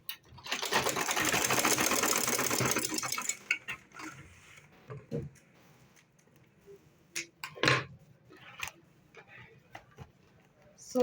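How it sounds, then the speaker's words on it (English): Sewing machine top stitching a fabric file folder, a loud rapid needle whir for about three seconds, then scattered clicks and handling sounds as it stops. "Okay, so I'm going to top stitch it."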